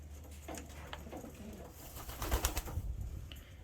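Pigeons, including a red checker pied bird, coo softly among themselves while feeding on greens, with a steady low murmur of coos and faint background noise throughout.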